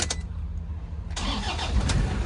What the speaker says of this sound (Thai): ฟังเสียงเครื่องกัน